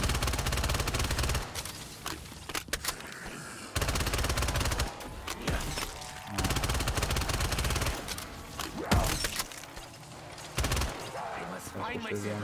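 AUG rifle gunfire in Black Ops 3 custom zombies, long dense bursts of rapid automatic shots broken by short gaps, loud and close, with people talking over parts of it.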